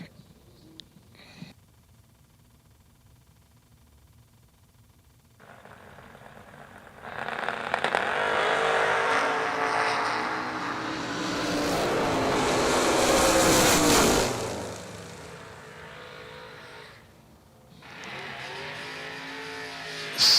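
Drag racing cars at a twin $50 race, a Corvette Roadster and an Oldsmobile, roar off the line and build to a loud sustained engine howl that fades, followed by another engine running nearby.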